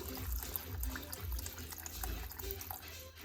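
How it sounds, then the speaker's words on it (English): Water splashes and gurgles as it is poured into a simmering pot of Polish sour rye soup with whole onions, a steady close pour with faint talk in the background. "I'm gonna add a little bit more of the water that evaporated during cooking"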